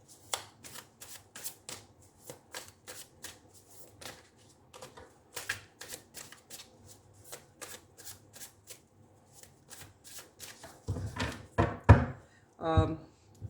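Light Seers Tarot cards being shuffled in a steady series of crisp riffling taps, growing louder and denser into a final flurry near the end.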